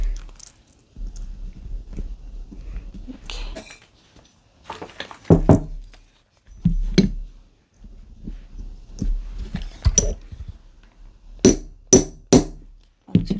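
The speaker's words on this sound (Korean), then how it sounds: "망치로 고정시켜 줍니다." A hammer taps on a metal clasp to fix it onto a handmade leather crossbody bag, scattered sharp knocks in short clusters with quieter handling sounds between them.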